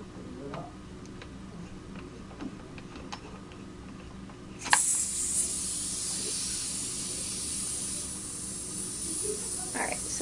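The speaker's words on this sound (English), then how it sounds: "we just got a small leak here from the macro line" Air hisses steadily from a small leak at the macroline of a PMR paintball gun, starting abruptly partway through after a few light ticks and clicks, then continuing as a loud, constant near hiss to the end.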